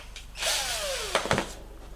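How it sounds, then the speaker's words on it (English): A power drill fitted with a 7/32 bit pre-drills holes for a full-motion TV wall mount. The motor whines, then winds down with a falling pitch, followed by a couple of short mechanical clicks, close and alone. "And we pre-drill these holes with the 7/32 drill bit"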